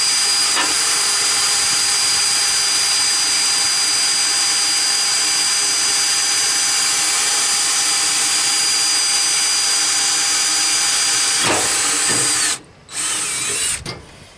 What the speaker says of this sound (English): just drill out every tack weld